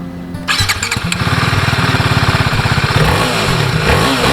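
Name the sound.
TVS Apache RR310 motorcycle exhaust note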